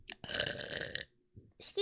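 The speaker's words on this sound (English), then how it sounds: "Vtuber Burp" A long, loud, croaky burp from a VTuber sounds close to the mic, then a short breathy sound and the start of another voiced burst.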